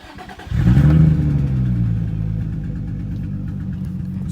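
An Infiniti G35 engine that runs badly and very loud cranks and catches, briefly revving, then settles into a rough, unsteady idle with a low wavering rumble, close and continuous.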